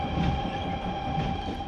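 A train passes in a continuous, steady rumble with a faint rolling rattle, loud and close throughout, with no voices, as in an audiobook sound effect.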